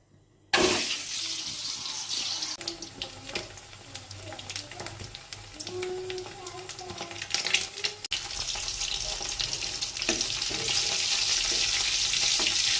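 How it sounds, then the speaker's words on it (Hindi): Food frying with turmeric and salt in a home kitchen, a steady close sizzle rising and thickening over time, with stirring scrapes and a brief running-water sound partway through. "थोड़ा सा हल्दी नमक डाल दिए इसमें। इसको फ्राई कर दूँगी।"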